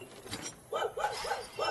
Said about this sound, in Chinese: 这狗突然对着空气在叫